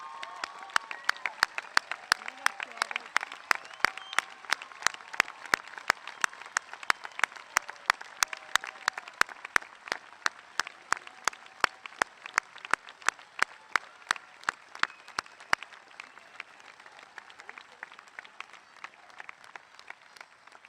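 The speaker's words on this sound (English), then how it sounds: "would you please applaud them?" Audience applauding at a high school graduation ceremony: a sustained spread of clapping, with sharp individual claps popping out in an irregular rhythm, fairly distant and thinning toward the end.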